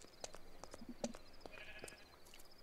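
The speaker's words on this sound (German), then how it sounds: "So ist hier ein Schaf in deinem Garten." A sheep bleating in Minecraft, short repeated bleats over a faint game backdrop with light clicks and footsteps, quiet and somewhat distant.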